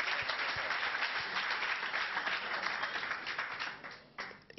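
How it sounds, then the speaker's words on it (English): Church congregation applauding at a testimony service, a dense, steady wash of clapping that holds for several seconds and then thins out near the end. "Let's clap for Jesus."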